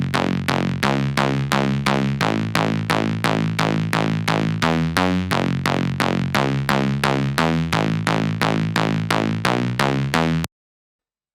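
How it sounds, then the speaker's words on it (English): Bass stab synth built in Serum, punchy repeated stabs in a steady rhythmic pattern with shifting pitches, about twenty short hits over ten seconds, loud and dry, then abrupt silence. "This bass stab was made on Serum."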